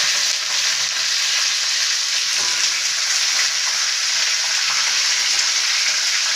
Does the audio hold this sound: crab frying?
yes